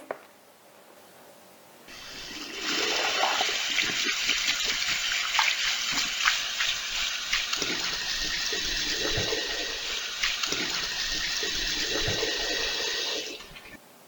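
Water gushes loudly for about eleven seconds, like a toilet flushing, then cuts off abruptly after a quiet start.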